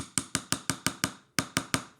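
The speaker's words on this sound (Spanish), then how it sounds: "con el martillo de astas lo que hacemos es apoyarlo sobre la base de plomo o de madera" Orthodontic hammer striking a molar band on a lead or wooden base: nine sharp, evenly spaced metallic taps in quick succession with one brief pause, close and clear with no talking.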